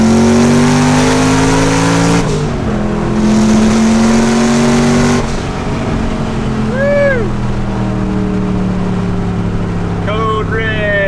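A Shelby Code Red prototype street car with a boosted engine runs steadily, its engine droning and rising as it accelerates, with people talking over the loud drone.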